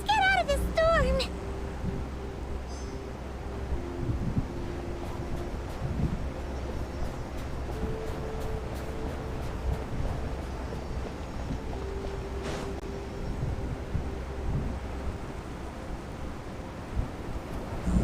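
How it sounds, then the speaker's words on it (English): Storm wind in Genshin Impact during a snowy Everwinter quest, a steady low howling roar that runs throughout, with chiming game effects at the start, while people talk over it. "Let's get out of this storm"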